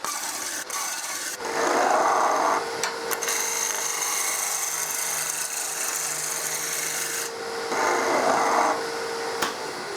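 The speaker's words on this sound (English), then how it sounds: "I rub the tool on the timber with the back of the tool to make sure there are no flat spots." Back of a 3/4 roughing gouge rubbing a spinning timber blank on a wood lathe, giving a steady rasping, scraping texture that swells and eases over a constant motor hum, close up with no talking.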